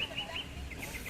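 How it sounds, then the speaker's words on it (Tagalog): A crow calls at a beach resort on Samal island, giving a quick series of short, harsh caws, moderately close and rather faint, over soft outdoor ambience. "may uwak"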